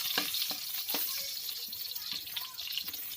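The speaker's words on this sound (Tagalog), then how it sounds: "igigisa yung sibuyas bawang" Onion and garlic sautéing in a pan for chicken tinola, a soft, quiet sizzle under light clinks and stirring taps, with a brief faint voice.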